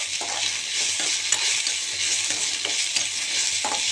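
Mint leaves sautéing in a pan for mint chutney, a steady close sizzle with periodic scraping stirs of a spoon against the pan, no voices.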